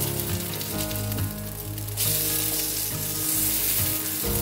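Food sizzles loudly and continuously in a large 12-inch cast iron skillet as pieces are flipped and pressed down, with a steady bright crackle filling the whole stretch and no talking.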